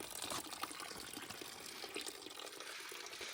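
A village spring runs with drinking water in a steady, continuous rush and splash. The sound is broadband and fairly faint, with no voices.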